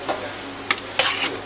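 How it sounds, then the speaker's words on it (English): Potted shrimp stirred in a pan in a restaurant kitchen, a few soft scraping and sizzling strokes with two brief louder clatters partway through, close and moderately quiet. "Give it a good stir."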